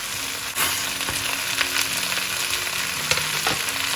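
A cauliflower, chickpea and potato curry with chopped chilli frying in a pan, a loud, steady, close sizzle with a few brief clatters from stirring.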